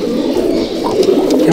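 Malabari/Punjabi breed show pigeons coo steadily and close up in a loft, a continuous low throaty burbling that runs without a break.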